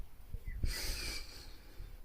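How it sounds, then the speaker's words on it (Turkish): A deep breath drawn in through the nose, then blown out slowly through the mouth as if blowing out a candle, a single soft airy exhale close to the mic during a calming exercise. "Burnumuzdan aldık. Mumu üfler gibi ağzımızdan verdik."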